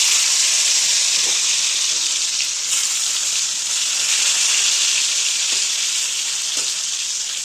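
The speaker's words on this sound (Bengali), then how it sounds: "আমি এখানে আলুগুলো ছেড়ে দেবো।" Potatoes dropped into already hot oil, giving a loud, continuous, even sizzle that stays steady throughout, with a few faint knocks underneath.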